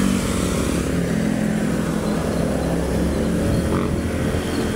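A Rusi Flex 125i motorcycle being ridden on a test ride, its engine a steady droning hum with continuous rushing wind noise throughout, no talking.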